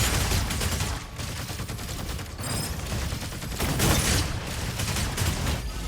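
Gunfire in a shooter video game, including sniper fire, with a dense, continuous volley of shots and booming blasts that swells and fades without speech.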